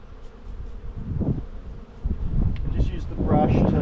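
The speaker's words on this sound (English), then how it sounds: "I just use the brush to get as many bees off as I can before I plonk it in." Honey bees buzz around boxes of comb during a honey harvest on a homestead in extreme heat, a close, steady swarm drone that rises and falls over a few seconds while a person talks over it.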